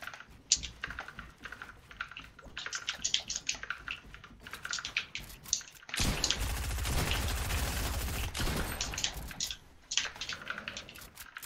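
Video game gunfire: a sustained burst of rapid shots lasting a couple of seconds, framed by steady computer keyboard clicking before and after.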